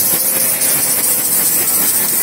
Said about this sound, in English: This metal cylinder is considered as a steam tank, which causes a rotating movement when the steam exits from its two nozzles.